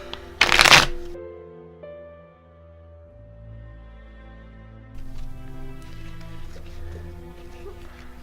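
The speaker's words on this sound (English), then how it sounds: "Then we'll shuffle and see where else we can go with this." Tarot cards get one quick, loud riffle shuffle close up, followed by quieter handling and a soft background hum, with no talking.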